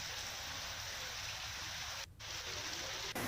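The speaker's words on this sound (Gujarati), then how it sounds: "ભારે વરસાદને લીધે રાજગઢ સબ ડિવિઝનના ધોધમાં પાણીનો ધસમસતો પ્રવાહ જોવા મળ્યો છે" Heavy monsoon rain pours alongside a waterfall in spate at Rajgarh near Alwar, Rajasthan, forming a steady, dense roar of rushing water that stays loud and unbroken throughout, apart from one brief dip.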